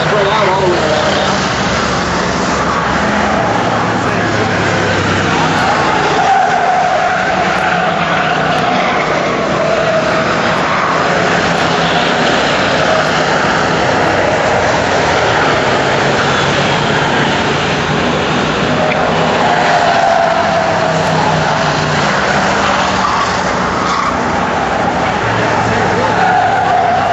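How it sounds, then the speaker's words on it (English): Race cars roaring around an oval track during the early laps of a 2003 season race, a dense, loud continuous engine and tyre din throughout with talk over it. "Drivers scrambling all around the racetrack."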